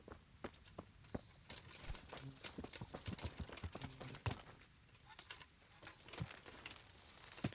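Horse hooves clip-clop in Kingdom Come Deliverance, a steady rhythmic run of sharp hoof strikes at a brisk walking pace, close and fairly even, with faint jingling alongside.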